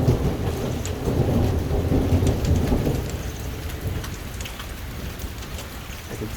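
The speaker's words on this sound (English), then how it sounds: "Apparently the hail here gets worse." A thunderstorm with heavy rain and hail in Italy: dense, steady rain patters on surfaces while low, rolling thunder rumbles loudly at first and then eases off.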